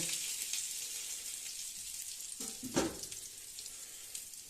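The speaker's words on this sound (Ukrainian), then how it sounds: "смажиться наш коржик" Oil sizzles and crackles steadily in a pan as an instant noodle and egg patty fries, with a brief scrape or stir partway through; no voices.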